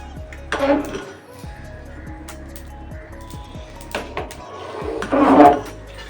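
Cooked rice for chicken biryani is lifted off the stove, with clinks and knocks of a metal pot and utensils, two louder clattering bursts, and a low steady hum beneath.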